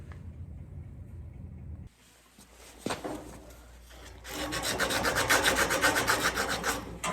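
A copper plumbing pipe being deburred before soldering: a steady close scraping rasp that starts softly, then grows louder and dense in quick rhythmic strokes, with a brief clunk partway through.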